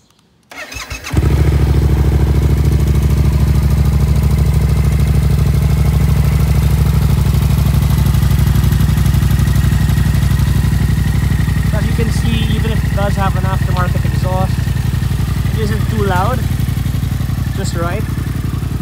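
A 2016 Yamaha MT-07 motorcycle fitted with frame and swing arm sliders cranks briefly and fires up, then settles into a steady, loud, close idle with a bassy rumble that runs unbroken to the end.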